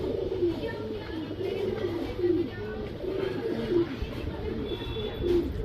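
Male pigeon offered for sale cooing in a steady run of soft, rolling coos, close and moderately loud, with faint background chirps and no speech.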